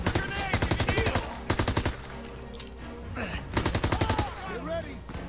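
Automatic gunfire in Call of Duty: WWII rattles out in rapid, rhythmic bursts, loud and close, broken by short pauses as voices shout over the battle.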